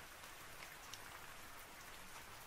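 Steady rain falls and patters on surfaces, a dense, even wash of drops that continues without a break and with no voices over it.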